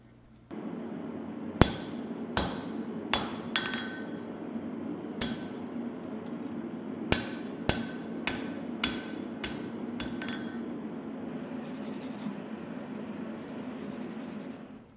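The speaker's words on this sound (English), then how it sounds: "then forging out the tang" Sharp metallic hammer blows ring out on hot steel while forging a knife tang, about a dozen strikes in an uneven rhythm over a low background hum.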